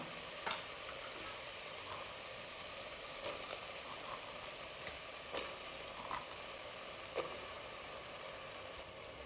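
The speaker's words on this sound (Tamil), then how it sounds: "கால் கைப்பிடி மல்லித்தலை இதையும் சேர்த்து நல்லா வதக்கி விட்டுக்கலாம்" Soaked green peas, spices and coriander leaves sauté in a pan for green peas biryani, giving a faint, continuous sizzle. Occasional soft clicks of stirring break it up.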